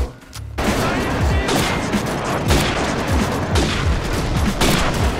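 After a brief near-quiet start, rapid gunfire erupts in Call of Duty 4 and continues steadily. A sniper rifle fires no-scope shots, and loud, close reports and booms follow one another in quick succession to the end.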